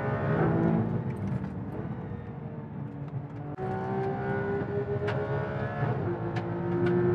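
Porsche GT3 engine accelerating hard on a race track, a loud sustained in-cabin drone whose pitch climbs steadily through the gears, with a brief drop at a shift midway.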